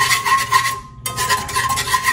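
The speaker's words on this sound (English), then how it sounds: "Stir it up" A spoon scrapes around a pot as it stirs a sauce thickened with xanthan gum, giving a continuous close rasping swirl with a brief pause midway.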